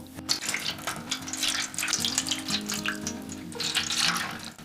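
Water runs and splashes steadily into an oven-safe baking tray nearby, a continuous pouring rush with no voices.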